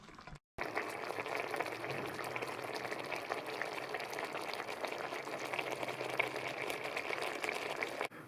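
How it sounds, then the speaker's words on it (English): Sri Lankan egg curry sauce simmering with eggs warming in it, a steady soft bubbling and hiss that runs on without a break after a short gap at the start. The bubbling is faint and close. "we're just going to let those eggs heat up a little bit in the sauce"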